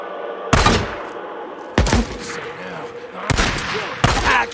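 Gunfire in the video game Days Gone: loud, close bursts of shots strike in four separate volleys over a steady background, with voices shouting around them.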